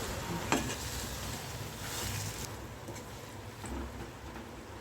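Boiled corn stirred into a cooked masala gravy in a pan over a medium gas flame, giving a soft, steady sizzle with faint scraping stir clicks throughout.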